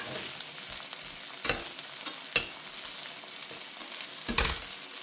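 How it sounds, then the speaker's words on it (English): Broccoli frying in a pan for chicken and broccoli rice, a soft continuous sizzle with a few sharp clicks and knocks of a utensil against the pan, fairly quiet and close, with nobody speaking. "I'm just gonna let this broccoli just simmer there."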